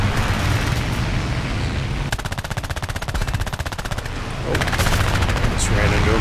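A Fury Mk I fighter's machine guns fire in War Thunder air arcade combat, with long rapid bursts rattling loudly over a steady engine drone, close and continuous.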